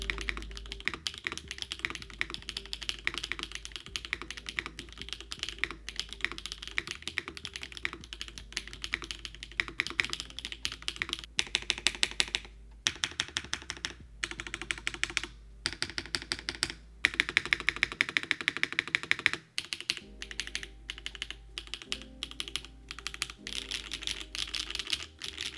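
Rapid typing on a Vento 80 mechanical keyboard, with dense clacky keystrokes in continuous bursts, close and crisp, with a few short pauses.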